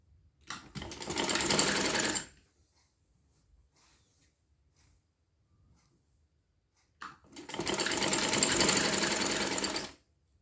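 A sewing machine stitching a sleeve with a cuff-style design runs in two loud, steady bursts of rapid needle chatter, roughly two and three seconds long, separated by a quiet pause.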